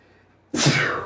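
A single loud sneeze, muffled into a t-shirt in a radio show studio, bursts out suddenly after near silence, close and forceful, its sound trailing off over the following half second.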